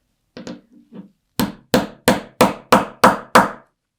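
A hammer striking a snap setter to fix a metal snap onto a quilted jacket: a few light taps, then seven sharp, evenly spaced blows, each clear and close with a quick decay.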